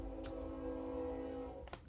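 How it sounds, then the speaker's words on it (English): A train horn sounds faintly in the distance, a sustained multi-tone blast held for nearly two seconds over low background rumble. "Train, you're not even supposed to honk your horn."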